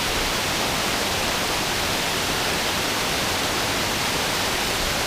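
A waterfall on a trout stream rushes nearby, a loud, steady broadband hiss without breaks or voices.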